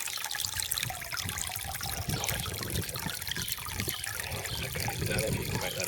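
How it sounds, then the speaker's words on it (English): Warm water pours from the outlet of a wood-burning pool heater, a steady splashing trickle that runs close and continuously for several seconds. "That water is coming out."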